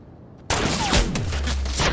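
A single sniper shot in Fortnite bursts in abruptly after quiet and is followed by a loud, sustained noisy tail with some rumble, close and forceful, with no talking.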